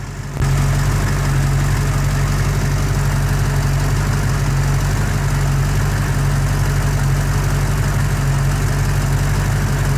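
A 1989 Chevrolet S10 pickup with a V-8 engine idles close by, a loud, steady low rumble with constant vibration running without a break throughout.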